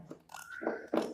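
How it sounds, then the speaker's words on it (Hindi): Fabric is cut in two or three short, crisp snips, close and fairly quiet, with no talk. "थोड़ा सा फैब्रिक हमें काट कर लेना है, ज्यादा नहीं काटना है, हल्का सा काटना है"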